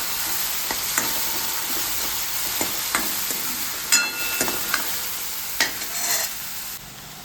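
Onion and tomato fry in a pan with cumin for a Khandeshi-style dish. Steady close sizzle runs throughout, broken by repeated sharp scrapes and clacks of a spatula stirring the pan, with no talking.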